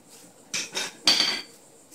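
Craftsman 3/4 inch metal pipe clamps handled and set down, three short bright clanks close by with no talk.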